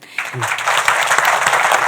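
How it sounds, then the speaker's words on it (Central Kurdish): Applause from a studio audience for contestant Mivan on the Kurdistan Star stage, a dense, loud burst of clapping that starts suddenly and carries on steadily to the end. "بەڵێ چەپڵەیەک بۆ کاک میڤانیش لێدەن"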